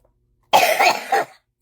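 A single short cough from one person, a brief harsh burst with a throat-clearing edge, close and alone in an otherwise silent moment.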